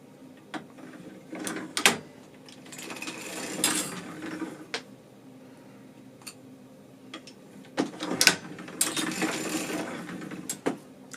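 A hand-cranked circular sock knitting machine clicks and clatters in bursts, with close mechanical ticks and rattles separated by quieter pauses.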